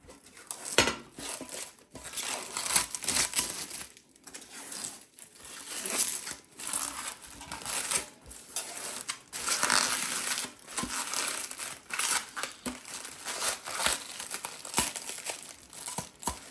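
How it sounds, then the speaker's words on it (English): Protective plastic film is peeled off a pressed aluminium lid with crinkly rustling and crackling, uneven bursts of crumpling plastic and light metallic knocks, close up and fairly quiet, with no speech. "So I take the protective plastic off"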